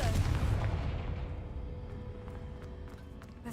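Confringo blast spell in Hogwarts Legacy, one loud booming explosive burst with a long rumbling decay fading over a few seconds.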